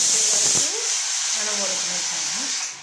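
Steady, loud hiss of steam escaping from a pressure cooker, continuous throughout, with a voice speaking over it.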